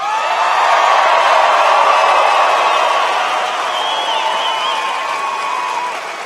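A large rally crowd in Billings, Montana cheers for President Trump, a dense continuous roar with whoops and shouts that stays loud throughout and eases slightly toward the end.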